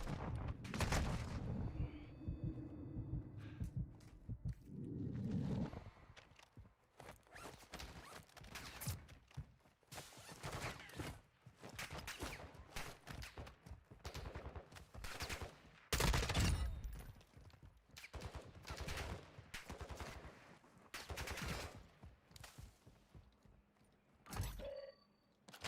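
Rapid gunfire from the Call of Duty DMZ video game, with dense bursts of automatic shots and heavier booms that continue almost without pause, loud and close for the whole stretch.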